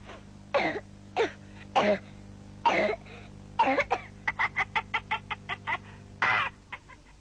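Chickens cluck in a run of short, rhythmic clucks, with a few louder squawk-like calls before and after, close by and fairly clear.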